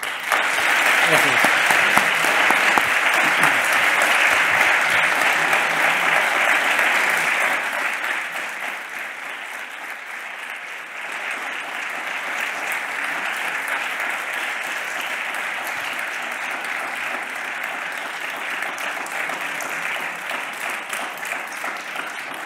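Loud applause from an audience after a lecture by historian Julián Casanova on twentieth-century Europe. It starts as a dense, full clapping roar and eases to a softer, steadier patter that carries on, with faint voices beneath it.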